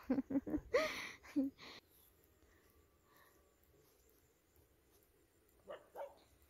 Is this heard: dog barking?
yes